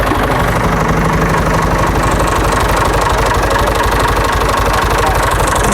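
A tractor engine idles loud and close, a steady low knocking chug with constant vibration throughout, with speech likely under it.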